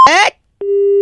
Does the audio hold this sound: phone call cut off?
yes